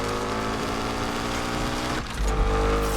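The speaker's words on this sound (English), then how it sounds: "And the engine sound." Ford Mustang in GTD body-kit form, an in-game car in Need for Speed Unbound, idles with a loud, steady engine drone, then blips into a sharper revving growl near the end, with no talking.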